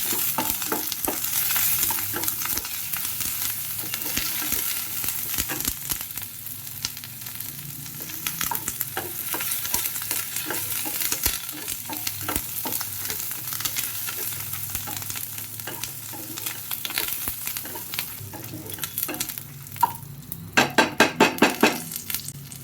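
Curry leaves frying in a kadai and stirred with a utensil, giving a steady close sizzle with scraping strokes throughout, then a quick burst of metallic clinks near the end.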